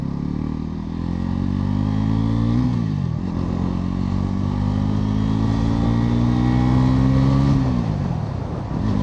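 Bajaj Pulsar NS400Z motorcycle in sport mode, engine note climbing steadily through the gears with loud, close revs, a brief dip around the shift, then rising again before easing off near the end.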